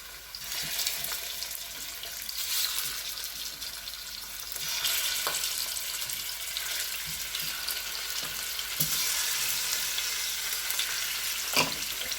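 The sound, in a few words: chicken drumsticks frying with garlic in a pan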